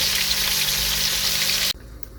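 Pieces of beef ossobuco browning in oil in a cooking pot give off a steady, close sizzle that stops abruptly near the end, leaving near silence.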